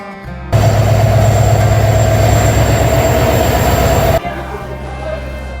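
Locomotive engine being coupled to train coaches produces a loud, sustained low mechanical drone with a steady hum, starting suddenly and stopping after about four seconds, followed by quieter station ambience.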